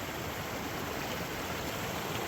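A creek in a glaciated valley flows with a steady, close broadband rush of water, continuous and even with no other sounds.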